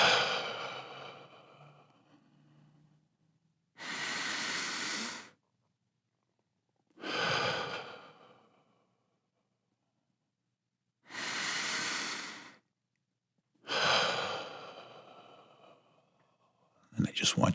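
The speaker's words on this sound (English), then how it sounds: "I just want you to take 3 deep breaths with me." Slow, deep breaths taken during a guided breathing exercise, about three long inhale-exhale cycles with quiet pauses between them, close and fairly loud, with no talking over them.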